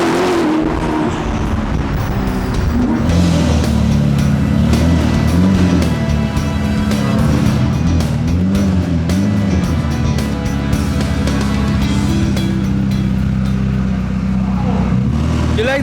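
A red Ferrari SF90, fitted with new wheels and lowered, accelerates hard in a loud, close, sustained engine roar with rising and falling revs, with voices faintly underneath.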